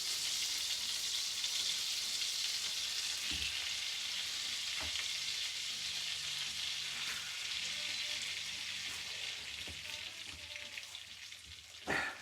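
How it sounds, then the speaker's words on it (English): Cod fillet frying skin side down in a hot pan, giving a steady, loud, broadband sizzle that continues without pause for the whole stretch, with faint small pops and no talking. "you're going to put the cod skin side down, and then you're not going to touch it"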